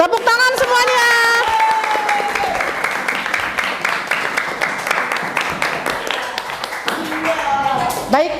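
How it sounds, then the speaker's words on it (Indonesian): A classroom of schoolchildren claps together after their presentations, a dense steady applause that swells and continues for several seconds while an adult voice speaks over its start and end. "Tepuk tangan semuanya."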